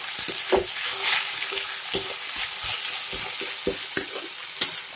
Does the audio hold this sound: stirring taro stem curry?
yes